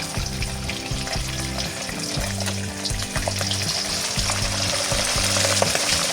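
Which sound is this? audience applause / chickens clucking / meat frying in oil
meat frying in oil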